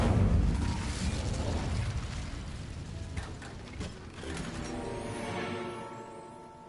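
Incendio fire spell cast in Hogwarts Legacy, a loud burst of roaring, crackling flame that opens strongly, then a rattling, mechanical tail of magical effects that fades over several seconds, with no talking.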